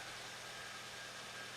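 A Hyundai Elantra with a freshly swapped engine runs at a steady idle, a quiet, even hum with no voices over it.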